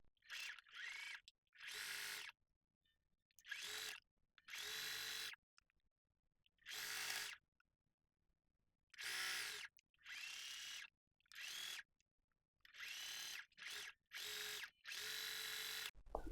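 A sewing machine stitches the side seam of a lace skirt in repeated bursts of fast, buzzing whirring, each lasting about a second, separated by short quiet pauses, close and clear with no talking.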